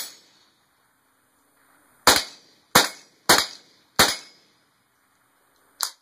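Mossberg 702 Plinkster .22 rifle firing five sharp, close shots outdoors, four in quick succession about a second apart and then one more after a pause, each crack decaying quickly into quiet.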